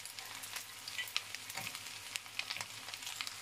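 Fries being gently folded into a pan of chicken spaghetti, with soft scraping spoon strokes and scattered clicks over a steady low sizzle, close by and fairly quiet.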